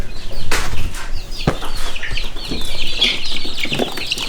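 Ancona bantam chicks cluck and chirp near at hand, with overlapping calls and a brief flutter of wings, loud and continuous with no talk.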